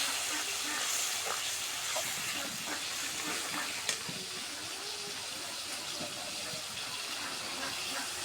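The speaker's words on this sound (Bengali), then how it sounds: "দিয়ে মশলাটা সুন্দর করে আগে কষে নিব।" Spice paste sizzles in a pan with a little water, being fried down for a desi chicken and potato curry, a close, steady hissing sizzle with light stirring scrapes and a faint click.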